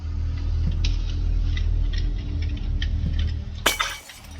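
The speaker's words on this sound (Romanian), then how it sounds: "Oh, nu, am spart, i-am spart geamul." Window glass shatters in a sudden loud crash near the end, breaking through steady ambient hum and scattered soft ticks inside a house in the Hello Neighbor video game.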